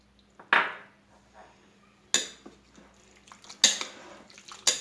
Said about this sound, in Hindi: ये सब डाल के इसे मिक्स कर लें।